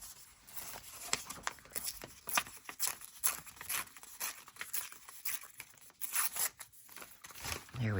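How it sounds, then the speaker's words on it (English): A scrap of paper is torn by hand for a junk journal, giving close, quiet ripping with crinkly, scratchy bursts spread across several seconds, with faint handling rustles between the tears. "And I'm gonna rip it backwards"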